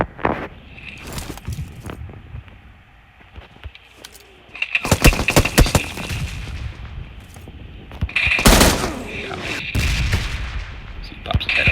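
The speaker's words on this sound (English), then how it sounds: "Somebody out here shooting." Gunfire in PUBG Mobile on the Erangel map, with scattered distant shots early on and louder, sharper bursts later, over a quiet outdoor ambience.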